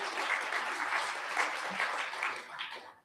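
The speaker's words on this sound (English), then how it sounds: "Yes, it's a clap for Conyer." Applause from a late-show audience at a poetry festival, a dense wash of many hands clapping at moderate distance, fading out at the end.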